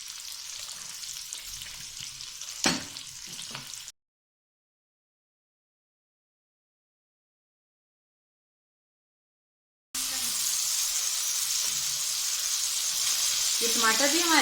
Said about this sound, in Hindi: टमाटरों को भी हम फ्राई करेंगे, थोड़ा सा नमक डाल के और सोया सॉस डाल के